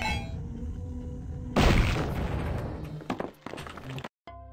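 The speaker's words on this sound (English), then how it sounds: "But the fighter can throw these to make explosions." Flasks thrown by the fighter in the video game Hexen burst into explosions: a sudden loud boom at about 1.5 seconds is followed by a crackling, debris-filled decay and a few sharper bangs before an abrupt cut.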